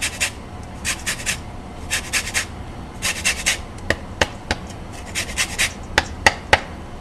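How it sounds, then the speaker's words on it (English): Lemon zest is grated over couscous in short bursts of dry, raspy scraping strokes, some quick and clustered, others single sharper scrapes, close up and without speech. "We're going to grate in a little lemon zest."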